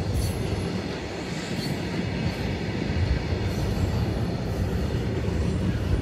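A long Indian Railways train of about a hundred coaches rolls past in the rain. It makes a steady, loud, close rumble of wagons and wheels, with faint squeals and clacking throughout and no talk.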